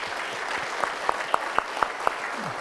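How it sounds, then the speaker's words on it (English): An audience at a sports group event giving a round of applause, a soft, broad patter of many hands with a few sharper, louder claps standing out at a regular beat near the front. "Give Joe a round of applause."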